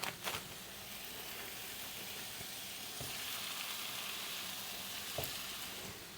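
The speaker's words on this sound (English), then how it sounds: "And we're going to brown up all that meat." Ground beef and mild Italian sausage brown in pans, giving a steady, close sizzle of frying meat. A few soft scrapes of stirring cut through the continuous crackle.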